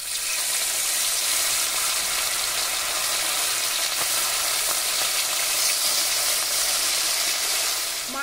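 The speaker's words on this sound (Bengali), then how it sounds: "মাছটা ভেজে নেব।" Fish frying in hot mustard oil in a wok gives a loud, steady, close sizzle that hisses evenly for the whole stretch without pause.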